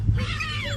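A street cat gives one close, clear meow that rises and falls in pitch, with a low steady hum of outdoor background underneath.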